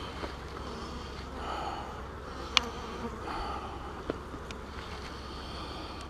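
Honeybees buzz in a steady, moderate drone around an open beehive being worked in hot summer weather, with a couple of brief knocks and clicks from handling frames.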